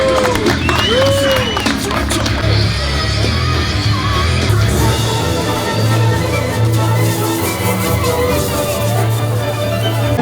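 An audience bursts into applause after a prize announcement at a competition round in Riga, loud sustained clapping with cheers and shouts, under a voice speaking over a PA and some background music.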